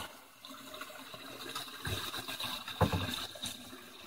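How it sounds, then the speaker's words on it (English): Water pours into a PVC swirl filter of an aquaponics system through a 45-degree inlet, giving a close, continuous gurgling trickle with a few sharper splashy surges and bubbling swirls. "it's coming in, it got a 45 degree angle, PVC. It starts a whirlpool effect"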